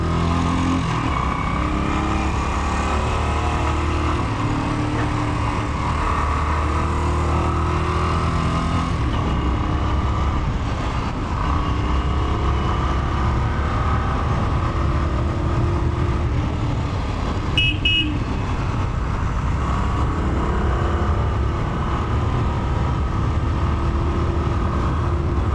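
A Royal Enfield Trials 350 motorcycle is ridden, its engine producing a steady, loud continuous drone that holds nearly unchanged throughout, with no speech over it.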